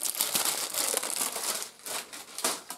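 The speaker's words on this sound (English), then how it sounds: "Sorry about all the crinkling." Plastic packaging from an Ikonart stencil kit crinkles and rustles up close during an unboxing, in loud irregular bursts with short pauses between them.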